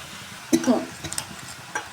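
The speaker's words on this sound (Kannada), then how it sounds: "ಇದು ಚಿಕನ್ನು ಎಣ್ಣೆ ಮೇಲೆ ಚೆನ್ನಾಗಿ ಫ್ರೈ ಆಗಲಿ" Chicken pieces frying in oil in a pan for curry leaf dry chicken, with a few stirring scrapes and brief bursts of sizzle over a quiet background, close and moderate in level.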